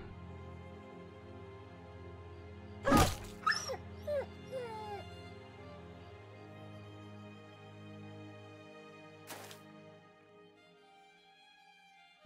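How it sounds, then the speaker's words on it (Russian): A dog in the video game Battle Brothers lets out one loud yelp, followed by a run of high whimpers and yips. A fainter yelp comes later over a quiet, droning game background. "Собака это еще дурацкая."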